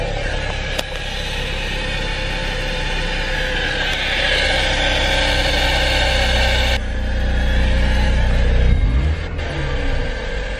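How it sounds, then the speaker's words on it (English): A faulty car engine makes a weird sound, running steadily up close with a strained, uneven tone, rising slightly near the end before settling back. "I crank my car up, and it's making this weird sound."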